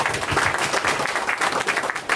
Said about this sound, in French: Applaudissez-moi s'il vous plaît.